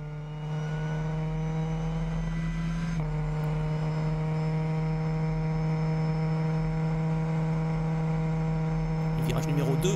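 A Lamera Cup race car at the Red Bull Ring gives a steady, loud engine drone as it accelerates onto the straight, with a sustained low tone throughout and a brief change in character near the end.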